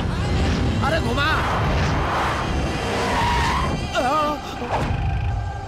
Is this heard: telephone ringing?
no